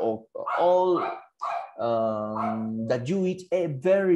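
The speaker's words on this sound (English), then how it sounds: "sorry for my dogs." Dogs bark and yelp in the background of an indoor conversation about food, with a few sharp and drawn-out calls overlapping steady talk.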